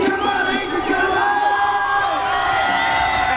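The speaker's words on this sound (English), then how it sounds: "As you can hear, Craig Ross getting the crowd fired up for the last round here" Fight night crowd at the men's heavyweight final of Last Fighter Standing cheering and whooping before the last round, a loud sustained roar of many voices with rising shouts and yells layered on top.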